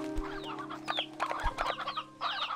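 Several chickens cluck and squawk in quick, irregular bursts, close by, over a faint steady hum, in the video game Slime Rancher 2.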